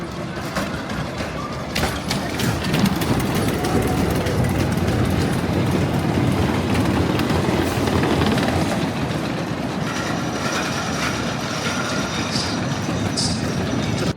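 The Beast, a wooden roller coaster at Kings Island, its train running along the track as a loud, rattling rumble that swells after a quieter start and rolls on continuously, with clacking wheels and occasional squeals.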